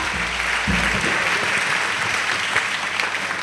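Audience applause fills a send-off ceremony for missionaries of the ECSD's 11th session in Côte d'Ivoire, a steady dense wash of clapping throughout, with a low voice briefly audible at the start.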